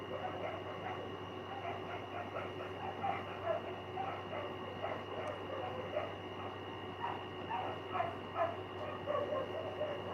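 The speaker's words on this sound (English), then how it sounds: "You guys hear all the dogs barking? They're all going crazy outside right now." Several dogs bark and yip outdoors at a distance, a restless chorus of repeated barks that rises and falls over a steady background hum, with faint indoor sounds underneath.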